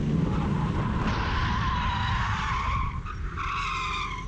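A car spins and skids on the Laguna Seca race track, tires squealing loudly in long sliding tones over the steady roar of the engine, close and sustained.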